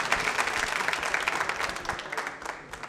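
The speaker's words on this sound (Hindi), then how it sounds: "तालियां दिनेश जी के लिए" Dense applause from an audience for a contestant at a nursing college quiz show, steady and fairly loud for nearly three seconds before thinning toward the end.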